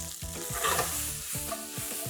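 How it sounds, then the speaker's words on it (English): Cut bhindi (okra) frying in a hot pan over a high flame, a loud close sizzle with rhythmic scraping stirs repeating throughout, no voices. "Once this heats up, I'll transfer the cut bhindis."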